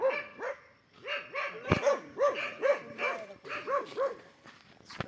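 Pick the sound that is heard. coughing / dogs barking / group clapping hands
dogs barking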